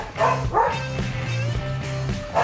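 A dog barks several times in quick bursts, close by, with short yips and whines between the barks over a low steady hum.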